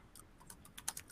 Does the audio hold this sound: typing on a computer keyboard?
yes